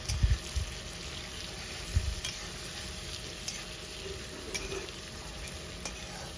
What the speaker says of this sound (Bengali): এখন আলুটাকেও পেঁয়াজের সাথে 2 মিনিটের মতো একটু ভেজে নেব।